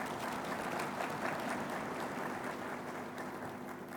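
An audience at an investment forum in Addis Ababa breaks into steady, sustained applause, a dense wash of clapping heard from a distance at moderate volume for the whole stretch.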